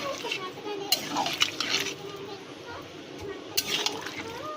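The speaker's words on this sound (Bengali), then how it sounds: "জল দিয়ে নাড়িয়ে নেব" A pot of hilsa fish head curry with greens is stirred after water is poured in, giving wet sloshing, liquid swirls and a few clinks of spoon on metal, close and fairly soft.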